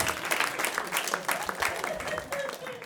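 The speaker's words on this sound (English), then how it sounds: "Polite applause" Polite, thin applause from a small stand-up comedy audience, a steady patter of scattered claps running throughout at moderate level, with faint murmuring beneath.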